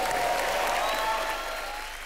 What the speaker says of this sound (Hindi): खैर उदित नारायण जी के लिए जोरदार तालियां हो जाए